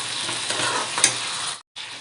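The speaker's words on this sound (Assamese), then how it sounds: "এনেকৈ ভালকৈ ভাজি লম" Chicken pieces and chopped tomatoes fry over a low flame in a curry pan while being stirred, giving a close, steady sizzle with a small clink of the spoon, then a brief cut to silence before the sizzling resumes.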